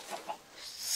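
A chicken clucks in a Minecraft-style survival video game, with two short, soft clucks early on and then a rising hiss toward the end, nearby and fairly quiet.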